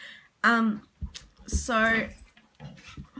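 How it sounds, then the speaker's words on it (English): A pet dog named Eric lets out two high, whiny whimpers close by, with a person briefly speaking in between. "Sorry, that's my dog"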